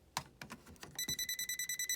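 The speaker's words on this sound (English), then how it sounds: "See, it's flashing and beeping. That's telling me there's electric there." A non-contact voltage tester held at a live electrical outlet beeps in a rapid, even series of short electronic tones, close and clear, after a few handling clicks.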